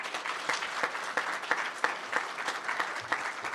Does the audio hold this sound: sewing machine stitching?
no